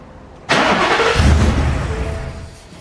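A 2018 Ford F-150 pickup on a dyno cranks and fires up abruptly, then runs with a loud, rough engine roar that settles and fades slightly toward idle.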